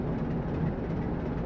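A container train in Train Simulator 2015 rolls along the rails with a steady low rumble and dense rail noise, continuous and alone with no talk.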